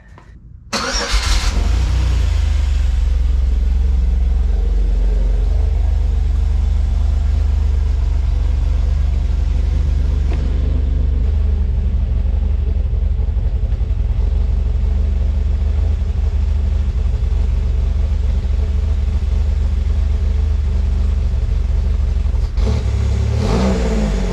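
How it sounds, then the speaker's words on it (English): A cammed car engine cranks and catches about a second in, then runs loud and steady with a lumpy idle for the rest of the clip. No talking over it. "Silver car started."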